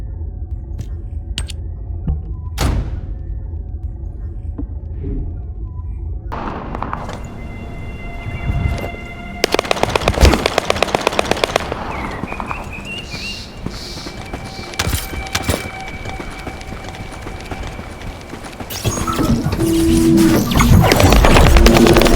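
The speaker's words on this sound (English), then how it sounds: "That stopped the gunfire." A rapid automatic gunfire burst erupts in the middle of the action in The First Descendant, loud and rattling amid layered game effects and a rising soundtrack.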